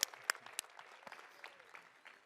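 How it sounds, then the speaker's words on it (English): A hackathon awards crowd claps for a team, starting with a few sharp close claps and then settling into quieter, scattered clapping from the audience. "Everybody clap."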